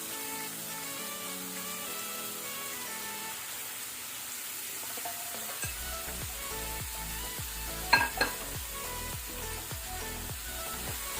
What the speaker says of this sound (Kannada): ಒಂದು 2 ಮಿನಿಟ್ಸ್ ಇದನ್ನು ನಾವು ಮೀಡಿಯಂ ಫ್ಲೇಮಲ್ಲಿ ಫ್ರೈ ಮಾಡ್ಕೊಳ್ಳೋಣ